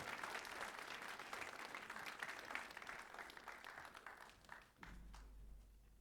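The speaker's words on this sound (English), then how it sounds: "let's give them another round of applause, their guitar ensemble" An audience at a concert applauds a school guitar ensemble with a continuous patter of many hands clapping. The applause is moderately distant and tapers off near the end as a low hum comes in.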